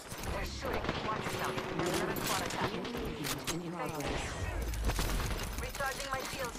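Rapid bursts of automatic gunfire crackle through an Apex Legends match, with sharp repeated shots and clattering impacts, while voices murmur underneath.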